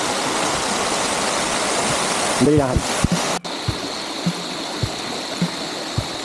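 Water from a falls pours steadily into an infinity pool at Hacienda Amelia in San Luis, Aurora, a loud constant rushing close by, with a brief voice and a few knocks partway through.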